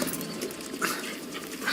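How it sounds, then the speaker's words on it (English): A puppy in Metal Gear Solid V: The Phantom Pain makes faint, brief yips and whimpers against steady game ambience, with no speech. "Mitch, here's the dog you brought back."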